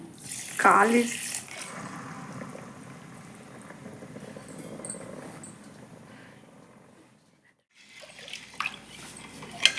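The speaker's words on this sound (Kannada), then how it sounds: "ಅಳತೆಯ ಪ್ರಕಾರ ಇದರಲ್ಲಿ 2 ಗ್ಲಾಸ್ ನೀರನ್ನು ಹಾಕಿದ್ದೇನೆ." Water pours steadily into a pot holding sugar for several seconds with a full, rushing splash, then cuts off into near silence before faint clatter.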